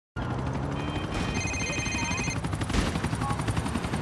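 A phone ringing in the GTA 4 Lost and Damned video game, repeated electronic ring tones over a steady engine-like rumble and game background noise.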